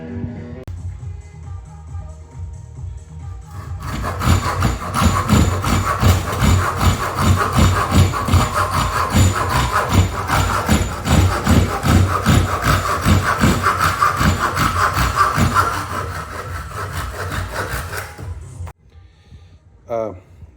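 A hand file rasps rhythmically across the teeth of a hand saw, a close, steady series of scraping strokes that fades out near the end.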